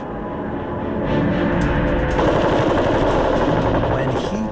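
Rapid bursts of machine gun fire from World War I aerial combat, loud and continuous, layered over a droning fixed-wing aircraft engine.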